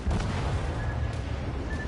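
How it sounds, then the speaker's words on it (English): Secondary guns of a warship firing in the naval combat game World of Warships Legends make a dense, continuous low rumble of booming shots that stays loud throughout with no clear gaps. "you can see how my secondaries fired very quickly"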